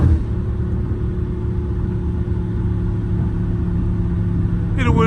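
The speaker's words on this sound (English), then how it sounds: "I did not try to downshift that hard." A Dodge Scat Pack idles and rumbles with a deep, steady low-end drone heard from inside the car, then near the end a sharp rising rev as the engine is blipped on a hard downshift.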